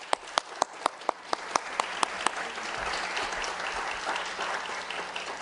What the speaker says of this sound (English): I'd like to give a round of applause here for our panelists.